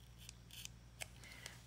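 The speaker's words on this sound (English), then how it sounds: "I just use some scissors and I kind of go right along the edge there" Scissors snip along the edge of Stampin' Spot packaging, giving several quiet, close, crisp cuts in an otherwise still room.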